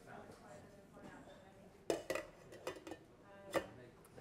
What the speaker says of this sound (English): let's put it into the Argus simmering oven.